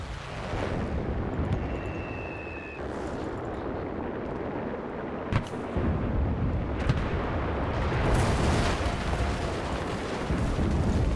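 Gunfire and explosions in the WW2 shooter game Enlisted form a dense, continuous battle din, with booming blasts and sharp bursts rising from a steady rumble and a strong crack near the middle.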